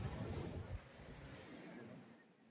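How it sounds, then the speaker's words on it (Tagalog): Strong surf at Diguisit Beach in Baler crashes in a loud burst, then settles into a steady wash of ocean waves mixed with wind buffeting the microphone. "Ang lakas ng alon."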